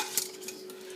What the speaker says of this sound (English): It's time for me to add these oxtails.